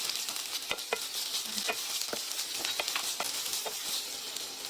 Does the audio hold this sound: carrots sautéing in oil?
yes